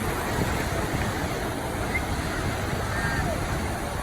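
Surf and breaking waves at an ocean beach during adaptive surfing in a modified chair, a steady broadband wash with wind noise, close and continuous without speech.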